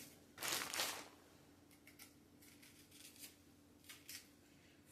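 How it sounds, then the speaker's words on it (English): A plantain, whose skin is hard to come off, is peeled. It makes one brief louder crinkly tearing burst, followed by a few faint scraping rustles against a quiet hum, close up, with no speech. "I'm gonna go peel my plantain, cut them up."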